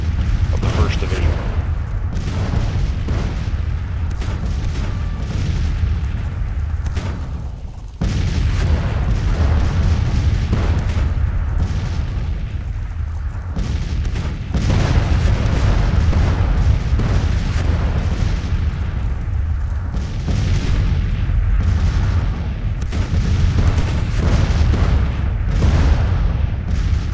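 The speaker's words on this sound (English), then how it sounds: "Purcell artillery is firing" Civil War artillery, including the Purcell battery, fires in the strategy game Grand Tactician, with heavy booms and a continuous low rumble of cannon fire rolling on without a break.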